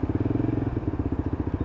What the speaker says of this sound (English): it does burble and crackle, and you wouldn't expect that from a 125 unless it's got a power pipe on it